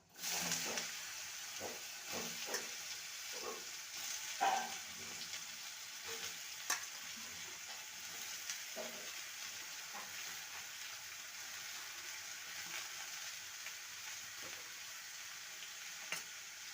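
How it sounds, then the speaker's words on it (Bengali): Chopped bottle gourd stir-fried with mustard seeds in a pan gives a continuous soft sizzle, with repeated light scraping and tapping of a spatula stirring throughout. "ভালো করে নেড়ে নেব"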